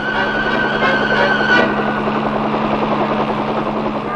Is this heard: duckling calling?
no